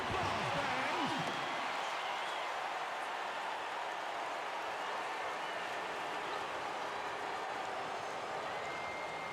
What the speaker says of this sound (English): Give him a round of applause, fans.